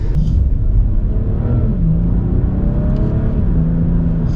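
A BMW 335i (E90/E92) engine drones loudly and rises in pitch as it revs, with a continuous low rumble throughout.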